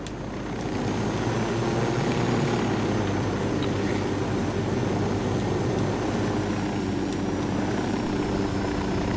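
Helicopter in the video game Ghost Recon Wildlands, a steady loud rotor and engine drone that holds constant throughout with no voices.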